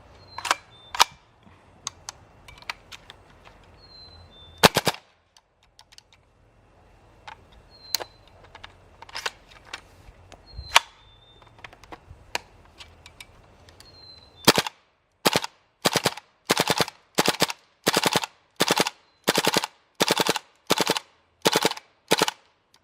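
A GHK AK-74U airsoft gas blowback rifle fires close by, first as scattered single sharp cracks with quiet gaps, then a fast, evenly spaced string of loud snapping shots toward the end.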